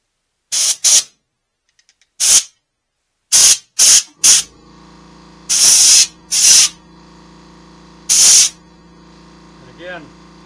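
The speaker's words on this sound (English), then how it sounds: "after I blow the chips clear" Short bursts of compressed air blow metal chips off a cutter after machining a 9.3x62 rifle chamber, about seven loud hissing blasts of varied length separated by pauses, with a faint hum between them.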